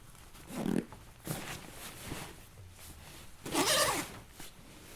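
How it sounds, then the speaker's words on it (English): A J3SD Super Spike duffel is zipped onto the outside of an Eberlestock Skycrane II backpack, giving several short rasping zipper pulls with pauses between them, close and fairly quiet. "take this fairly light J3SD Super Spike duffel, lay it on the outside of the pack, and now simply zip it to it"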